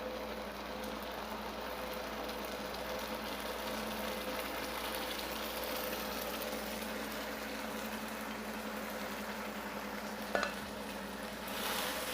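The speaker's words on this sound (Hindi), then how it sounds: "अब हम इसको अच्छे से भून लेंगे" Onion masala mixed with yogurt paste fries in a pan for chicken korma, giving a steady, even sizzle with one brief clunk near the end and no talking.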